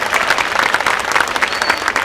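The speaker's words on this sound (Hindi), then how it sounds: "आपकी तालियां कमजोर हैं दोस्तों" Audience at an Urdu poetry mushaira in Delhi clapping, a dense steady patter of applause from a nearby crowd, brief and even throughout.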